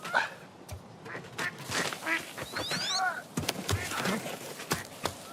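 Quacking duck music plays in a video game, a run of loud honking quacks and squawky calls in an uneven rhythm over soft background game sounds.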